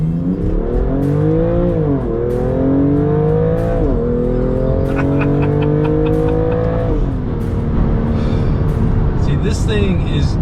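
A BMW M2 CS accelerating hard, its engine note climbing loud and close through repeated upshifts, each gear change dipping the pitch briefly before it rises again, with a rasping exhaust throughout.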